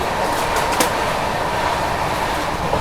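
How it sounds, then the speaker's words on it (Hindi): A Duronto Express, running from Delhi to Yeswanthpur near Mancherial station, speeds along with a loud, unbroken rumble of wheels and carriages, a dense roar that never lets up. "एकदम तूफान की तरह भाग रही है गाड़ी"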